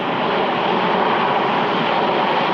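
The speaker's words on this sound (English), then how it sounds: "Italian jets painted the skies above Toronto this afternoon." Jets of the Italian Air Force aerobatic team fly over Toronto, a loud, continuous broadband roar that holds steady for the whole stretch without a break, and no one speaks over it.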